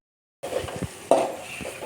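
Tomatoes stirred in a hot pan while frying for noodles: soft sizzling with a few brief scraping stir strokes after a moment of silence, close and fairly quiet.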